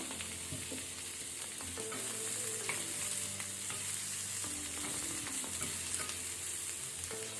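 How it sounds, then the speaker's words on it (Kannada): Garlic fries in a little oil with a soft, steady sizzle, while a spoon stirs now and then and quiet music plays underneath. "ಇದನ್ನು ಸ್ವಲ್ಪ ಕಲರ್ ಚೇಂಜ್ ಆಗೋ ತನಕ ನಾವು ಫ್ರೈ ಮಾಡ್ಕೊಳ್ಬೇಕು"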